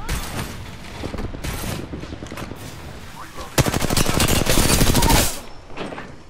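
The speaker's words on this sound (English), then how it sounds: "There's people shooting at him." Gunfire in the battle royale game Apex Legends, with scattered shots early on and then a loud, fast burst of automatic fire that tapers off near the end, close and sharp.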